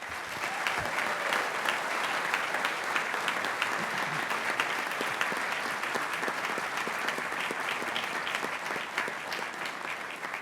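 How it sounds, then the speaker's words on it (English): Sustained audience applause at a fraternity award ceremony honoring a long-serving volunteer, a dense, steady wash of many hands clapping across the whole stretch without pause. "please give John a round of applause"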